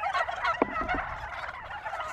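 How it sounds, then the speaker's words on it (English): A flock of turkeys gobbles in a loud, rapid, rattling chorus, with overlapping calls piling up continuously and one sharp burst standing out near the middle. "The turkeys keep coming back."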